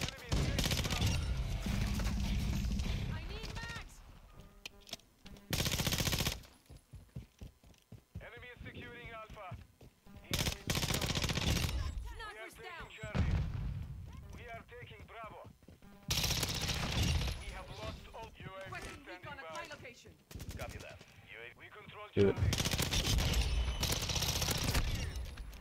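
Rapid bursts of ISO 45 SMG fire in a first-person shooter, loud sharp volleys repeating in several separate bursts, interleaved with stretches of someone talking over game announcer voices and background effects.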